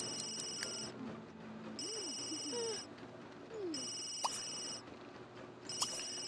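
Electronic phone ringtone from The Sims 3, sounding in repeated bright bursts with pauses between, alongside soft in-game chirps and ambient background tones.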